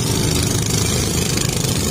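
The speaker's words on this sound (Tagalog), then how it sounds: "puro mga bangka po yan, nangangarera" Loud, rough motorboat engines roar continuously nearby during a town fiesta boat parade in Pulilan, Philippines, a dense buzzing drone with no pauses, like several boats racing at speed.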